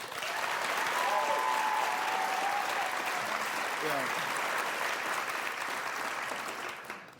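A studio audience applauds as a vote for Amanda Cerny in a straw poll, moderate clapping spread through the room, fairly soft and even, with a brief voice over it before it fades out.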